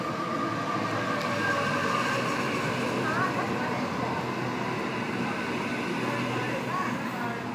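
A Sydney Trains service pulling out of Cabramatta station, a steady broadband rumble of wheels and traction running throughout at close range, with the platform ambience beneath it.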